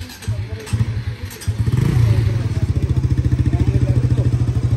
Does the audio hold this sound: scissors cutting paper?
no